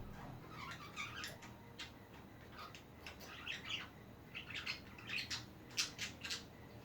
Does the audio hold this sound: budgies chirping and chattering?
yes